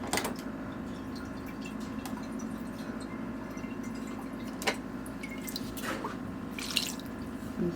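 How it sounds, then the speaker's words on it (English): Water poured into a cooking pot of stuffed grape leaves with lemon juice, a quiet trickling and dripping with a few soft splashes in a calm kitchen, no talking. "So I'm going to add a little water."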